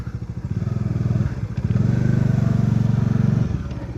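A motorcycle engine runs steadily up close, its low rumbling idle swelling into a louder sustained drone with brief dips as the throttle changes, with no talk.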